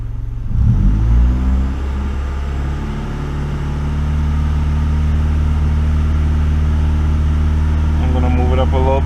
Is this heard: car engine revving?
yes